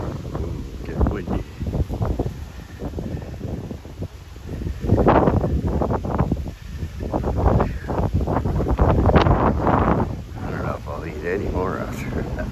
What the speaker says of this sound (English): Get windy.